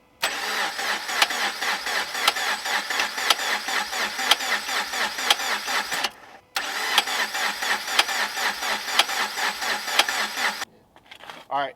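Subaru BRZ engine cranking over after a rebuild to prime oil: two long, rhythmic starter-motor bursts with a short break between, loud and close, then stopping.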